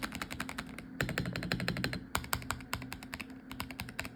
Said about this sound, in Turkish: Tuşların sesini merak ediyorsanız kısaca şöyle